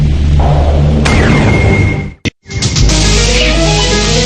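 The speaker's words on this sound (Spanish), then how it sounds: "Una serie de explosiones e incendios destruyó la enorme plataforma petrolera Piper Alpha" A huge blast rips through the Piper Alpha oil platform, a loud roaring explosion with a sudden sharp burst and a brief drop to silence before the rumbling noise surges back.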